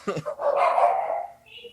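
A dog barks in a drawn-out, whiny way, close by, with a voice-like quality blending into the sound.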